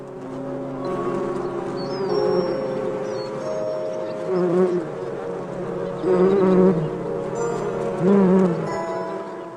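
Bees swarm around olive trees in a steady, close buzzing drone that swells and fades as individual insects pass near, continuing without pause throughout.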